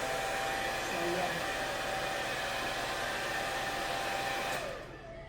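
A hair blower runs at a steady, loud, breathy whoosh close by, then winds down and cuts off just before the end.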